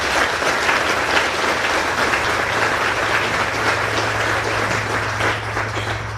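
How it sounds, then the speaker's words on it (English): Sustained, loud applause fills a military change of command ceremony for an air defense artillery brigade, a crowd clapping steadily throughout without any speech over it. "let's give the Aero Brigade a well-deserved round of applause for those accomplishments"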